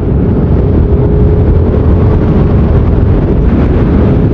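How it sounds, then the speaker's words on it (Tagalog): Strong wind roars continuously across the microphone, a loud, dense buffeting rumble with no pauses and no voices. "Napakatindi ng hangin."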